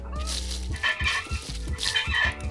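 Cartoonish chicken clucks from the video game Donut County come in quick bursts over a steady low musical hum, loud and close, with no voices.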